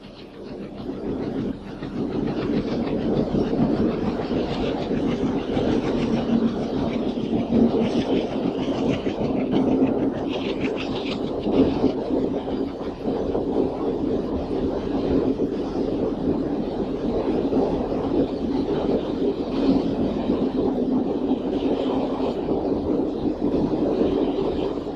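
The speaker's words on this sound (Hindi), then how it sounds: "यहाँ पुल भी है और रेलगाड़ी भी, पुल भी है रेलगाड़ी भी।" A train rolls across a railway bridge in a long, continuous rumble with steady rattling of wheels and cars, loud and unbroken throughout, with wind buffeting and no voices.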